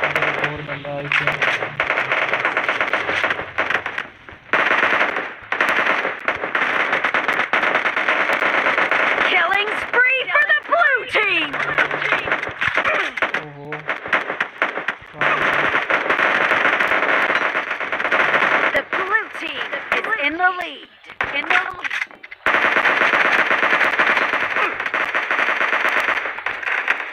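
Bursts of PUBG Mobile gunfire crackle in rapid clusters and single shots, mixed loudly with game effects and heard under near-constant talk from players.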